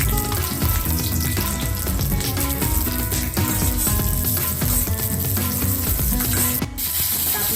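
Coconut and chillies frying in a pan for a spicy Maharashtrian chicken kharda, with a steady, dense sizzle and scraping that runs throughout at close range, without speech.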